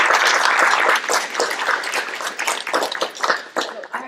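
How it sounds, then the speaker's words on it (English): An audience bursts into applause, dense clapping that starts loud, then thins into looser, uneven claps toward the end, with some voices mixed in. "I want a round of applause for everybody"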